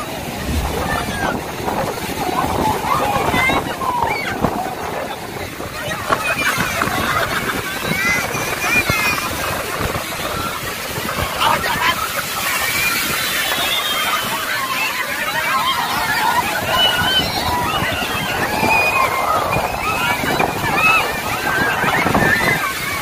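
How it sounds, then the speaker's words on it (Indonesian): Surf rolling in at Ambal beach on Java's dangerous south coast, a loud, steady wash of breaking waves and wind buffeting the microphone, with people talking over it. "ombaknya berbahaya banget ya"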